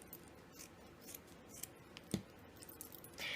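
Scissors cut into a white sock for a handmade sock doll, giving soft snips and fabric rustle with a sharper clack near the middle, close and quiet, with no speech.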